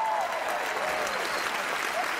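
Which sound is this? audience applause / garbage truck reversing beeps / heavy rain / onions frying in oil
audience applause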